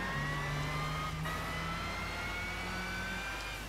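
A Mercedes SLS GT3 race car engine in the Gran Turismo 6 racing game gives a faint, steady high-pitched whine, its pitch creeping slowly upward as the car accelerates, with no voices.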